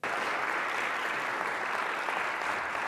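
A concert audience claps after a performance of John Cage's silent piece 4'33", a dense, even wash of applause that starts abruptly and holds steady throughout.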